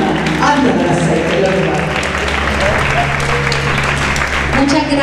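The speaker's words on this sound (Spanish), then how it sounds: "Denle un aplauso al Señor." Church congregation at a fasting and prayer service in Aguadilla claps in a loud, sustained round of applause, with voices and a low hum under the clapping throughout.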